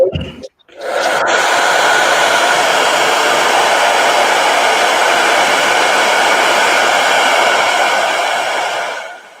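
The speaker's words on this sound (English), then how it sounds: "let me hit this with a blow dryer" A blow dryer drying paint on a painting roars loudly and steadily after a brief rustle, a continuous hissing whoosh that cuts off at the end.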